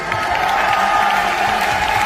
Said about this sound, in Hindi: ये ताली पैसे पे खरीदा हुआ नहीं है, ये दिल से निकलता है